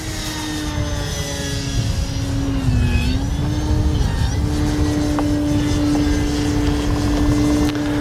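An Arrows RC Bigfoot PNP model airplane drones loudly and steadily overhead as it flies a stall turn, its motor pitch dipping and then climbing again partway through.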